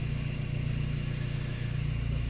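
A BMW car engine idles just after starting, a steady low rumbling hum with a faint pulsing rhythm, close and moderately loud, with no talking.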